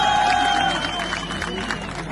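Crowd clapping and cheering at an outdoor political rally in Bajaur, a dense roar that is loud at first and then eases, with a raised voice carrying over it.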